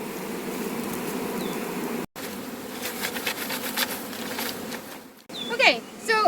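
A dense swarm of honey bees from small nucleus colonies buzzes loudly and steadily close by, with a short break and some rustling near the end.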